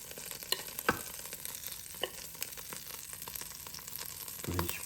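Ube pancake batter cooks in a Power XL with a soft steady sizzle, broken by a few scraping and tapping touches as it is spread out, close and moderately quiet.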